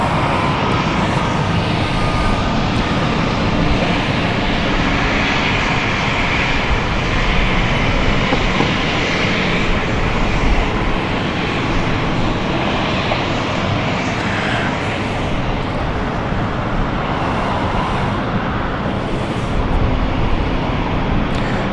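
Jet aircraft roaring down the runway while landing at London City Airport, a loud, continuous broadband engine rush that holds steady for the whole stretch with no voices.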